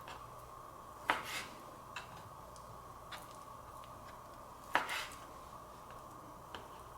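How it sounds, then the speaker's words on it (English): A knife cuts pork strips in half on a cutting board, two sharp, clear knocks a few seconds apart with a few faint ticks between them, close but quiet, with no talk. "I'm going to cut these strips in half one more time."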